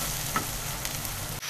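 Chopped tomato sautéing over a medium flame for Italian seafood pasta, a steady close sizzle broken by a few brief stirring scrapes, with no talking.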